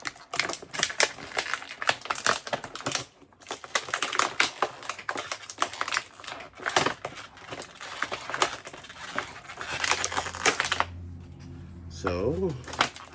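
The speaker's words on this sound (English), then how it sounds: "we're pulling them off the plastic" McFarlane Pacific Rim action figures pulled from plastic packaging, a busy run of close crinkling, snapping and clicking plastic noises, with speech briefly heard near the end.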